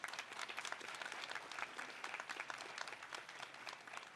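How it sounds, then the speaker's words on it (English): Steady applause from a commencement audience for graduating high school students and their families, dense even clapping at moderate distance, fairly quiet, with no speech over it. "Let's give these students and their families a round of applause."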